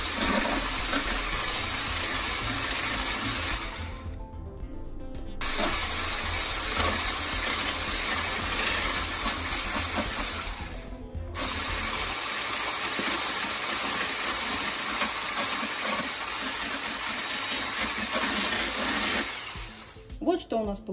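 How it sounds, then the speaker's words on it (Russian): Continuous whirring of an electric mixer beating egg whites with yolks, steady and loud, with two brief pauses where the motor stops. "Теперь по одному желточку вводим в белок взбитый и продолжаем взбивать."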